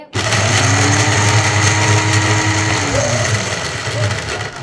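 A blender grinds peanuts into protein powder, its motor roaring loud and steady from start to finish with a whining hum and a slight shift in pitch partway through.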